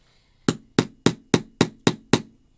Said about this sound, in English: And then all you do is you hammer it down.